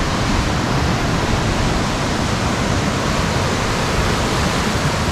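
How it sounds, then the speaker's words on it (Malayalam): Water rushes forcefully beneath a wooden plank bridge, a loud, unbroken roar that holds steady from start to finish with no voices. "അതിൻ്റെ താഴത്തിൽ കൂടെ അത്യാവശ്യം നല്ല ഫോഴ്സിലാണ് വെള്ളം വരുന്നത്"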